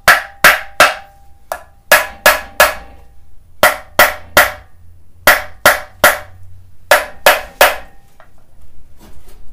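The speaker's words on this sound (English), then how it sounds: "I think I'm gonna need a bigger hammer." Sharp metallic hammer blows land on an engine oil pan during a Mazda Miata 1.8L engine teardown, struck close by in quick bursts of two to four hits separated by short pauses.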